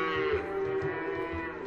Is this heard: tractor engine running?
no